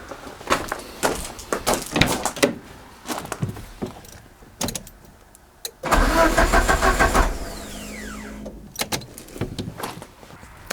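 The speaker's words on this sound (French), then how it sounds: "je vais mettre des petits coups de démarreur pour voir." A Peugeot 205 CTI's starter cranks in short bursts, whirring for a second or two at a time, with clicks and handling sounds between attempts; the engine does not catch.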